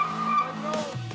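A car skids during an illegal street rodeo on a Belgian beach, giving a short, loud tire squeal with a sustained tonal screech under engine noise, close by.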